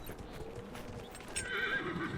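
A horse in Dragon Age: Inquisition clip-clops with soft hoofbeats before a loud whinny rings out near the end, set against a faint game ambience with no talking.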